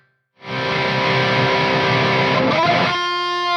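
A heavily distorted electric guitar through a Greenback 65 speaker rings out in one sustained, thick chord with a gritty buzzing edge, then a shift to a cleaner ringing tone at the end.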